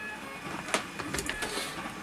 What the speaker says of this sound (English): I apologise for the 3D printer running in the background